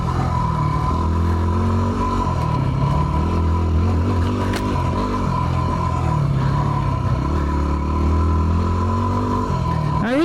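A Yamaha WR250R dirt bike rides along a trail, its engine droning steadily close by with small rises in revs and some clatter throughout, and no talking.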